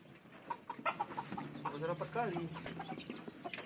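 Village chickens clucking in a small, crowded family coop, a run of short uneven clucks and squawks at close range over a soft background murmur of other birds.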